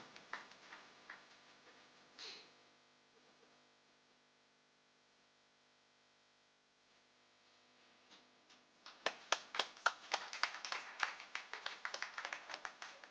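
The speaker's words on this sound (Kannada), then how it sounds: "ಜೋರಾದ ಕೈ ಚಪ್ಪಾಳೆ ನೀಡಿ ಅತಿಥಿ ಗಣ್ಯರನ್ನು ಸ್ವಾಗತಿಸುವಂತಹ ಹೊತ್ತು." An audience claps loudly to welcome guests at an inauguration event in Mangalore, a burst of dense applause rising after a quieter stretch of faint scattered sounds and lasting several seconds near the end.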